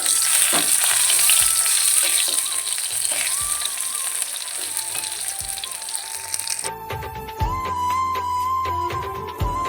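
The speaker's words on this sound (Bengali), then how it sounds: "এদিকে পটল ভাজা বসিয়ে দিয়েছি।" Pointed gourd (potol) slices frying in a pan of oil in a home kitchen: a continuous hissing sizzle with scattered pops, and faint tonal sounds joining in the background partway through.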